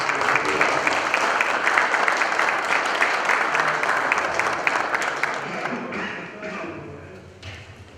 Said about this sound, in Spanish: darle la proclamación a los, con un aplauso